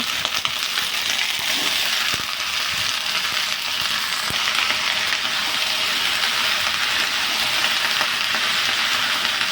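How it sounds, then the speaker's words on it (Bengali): Chopped vegetables and Malabar spinach frying in a pan with a steady, close hiss, stirred now and then with soft scraping knocks, continuous and without talk. "কেটে রাখা সবজির সঙ্গে সবজিগুলো আর পুঁই শাকগুলো মধ্যে দিয়ে ভালো করে নাড়াচাড়া করে নেব"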